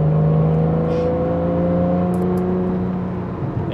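Porsche 911 (991) Carrera 4S accelerating hard in Sport Plus mode, a loud, steady engine drone with strong rising harmonics held close and continuous throughout, no voices over it.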